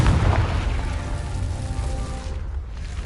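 A Confringo spell explosion goes off in Hogwarts Legacy, a loud booming burst at the start that rumbles and decays over about three seconds.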